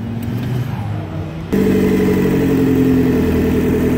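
A 2017 Polaris Slingshot SL LE roadster with a turbo kit and custom exhaust cranks briefly, then catches and settles into a loud, throaty idle with a deep, rumbling exhaust close by.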